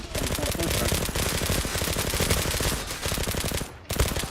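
Rapid automatic gunfire in the online shooter Zula, a dense unbroken stream of shots running for about four seconds with a short lull near the end, loud and close.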